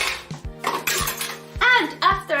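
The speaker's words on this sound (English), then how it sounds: "and after that we are doing dishes." Dishes, pots and cutlery clatter and clink during a deep cleaning, with several sharp knocks and ringing metallic scrapes in an uneven rhythm, close and fairly loud.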